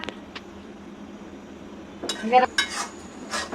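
Metal spoon scraping and clinking in a pan while tomatoes and onions are sautéed, a few sharp stirring clatters after quiet moments, with faint background hum.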